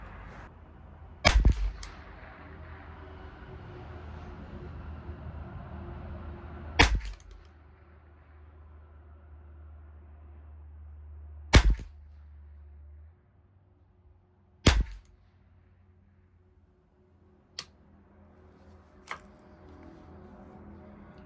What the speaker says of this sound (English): We'll do another 5-shot group